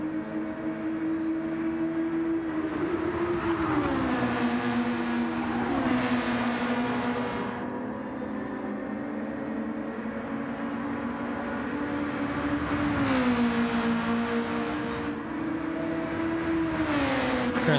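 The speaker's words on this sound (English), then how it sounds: "Currently running on board with Sunny B at the moment as he takes the car through the chicane, turns 8 and 9, up the hill into turn 10" Race car engine in Gran Turismo at Kyoto Driving Park, in an onboard view of a lap through a chicane and uphill turns, drones loudly and continuously, its pitch rising and falling with gear changes and braking.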